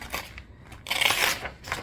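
A freshly sharpened kitchen knife slicing through a sheet of paper, with a close, dry rasping and tearing texture that swells into one longer ripping stroke and then trails off.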